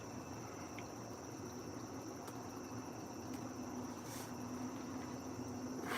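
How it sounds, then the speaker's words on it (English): A cricket trapped inside a house in summertime Pennsylvania chirps in a steady, fast trill, a close, even insect buzz that fills the room throughout, with no talk over it. "I didn't want that cricket jumping throughout my house"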